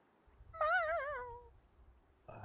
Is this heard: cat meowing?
yes